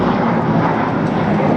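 Propeller-driven warbird engine drone from a Flying Bulls B-25 bomber or P-38 fighter, a steady loud roar filling the whole short stretch without a break.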